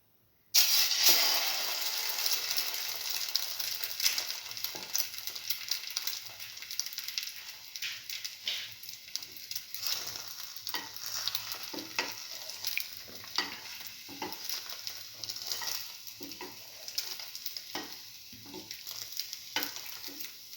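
A slice of cinnamon French toast fries in a pan with a steady, close sizzle that continues evenly, broken by faint crackles and small pops.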